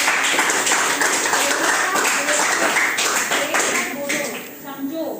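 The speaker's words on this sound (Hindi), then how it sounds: "चलिए इसके लिए ताली होती है।" Schoolchildren clap together in a classroom during a lesson on environmental protection: a burst of fast, overlapping claps with an adult voice talking over it, fading slightly toward the end.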